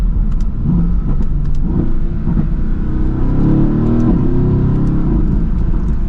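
A Mercedes-AMG GT S twin-turbo V8 engine roars steadily as it accelerates, its low growl rising in pitch through the run, loud and close with no voices.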